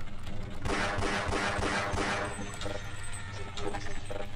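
Dense, continuous gunfire rattles loudly throughout in the USS Darkstar video game, rapid shots blurring into a steady barrage with some crashing impacts.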